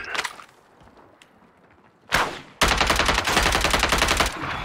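Gunfire from a shotgun rings out during a Call of Duty Resurgence match in Urzikstan, with a sharp blast near two seconds followed by a loud, dense burst of rapid shots that continues to the end, up close with no talk.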